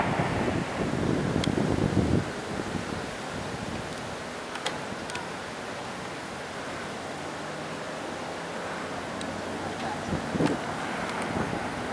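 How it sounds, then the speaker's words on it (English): Strong wind blows steadily around a 12 kW vertical-axis wind turbine, a broad continuous rush with gusts at the start and a few faint clicks and knocks, with no voices. "the wind has started to pick up a lot"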